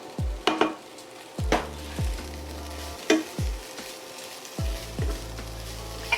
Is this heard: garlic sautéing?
yes